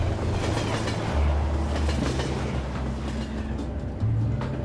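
A train travelling on rails rumbles steadily with low drone and faint rhythmic wheel clatter, close and continuous for several seconds with no speech.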